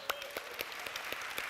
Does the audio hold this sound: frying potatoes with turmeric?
no